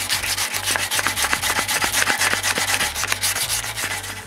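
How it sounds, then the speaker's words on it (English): Hand sanding of wooden tips on a home theater stand part, a close, steady series of rhythmic rubbing strokes with short pauses between passes. "I sand the tips by hand."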